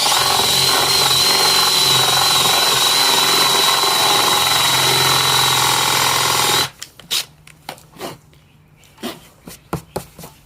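A drill with a Forstner bit bores a concealed hinge hole into a cabinet door, a loud steady whine close by for several seconds, then stopping, followed by a few scattered knocks and clatters.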